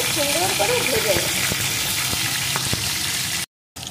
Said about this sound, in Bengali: মাছগুলো আমি সুন্দর করে ভেজে নেব